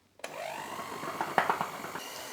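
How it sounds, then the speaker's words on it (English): An electric whisk mixes cream in a bowl on its lowest setting for a panettone chocolate roll, with a steady close motor whir and a few louder knocks as the beaters touch the bowl. "just let the electric whisk do the job"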